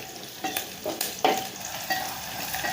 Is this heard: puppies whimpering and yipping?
no